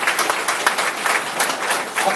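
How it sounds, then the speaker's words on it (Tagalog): Audience at a business opportunity presentation breaks into brief applause, a moderate patter of many hands clapping steadily for a couple of seconds. "Palakpak naman ng konti."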